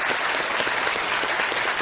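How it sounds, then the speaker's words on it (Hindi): Studio audience at a televised quiz show applauding, a dense continuous burst of clapping that stays loud throughout. "एक बार फिर तालियों के साथ बहुत बहुत स्वागत"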